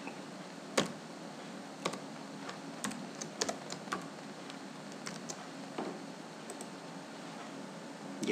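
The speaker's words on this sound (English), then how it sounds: "it will ask us to type the username and password again" Username and password typed on a computer keyboard: soft, irregular key clicks with a few sharper taps, close and quiet with no talking.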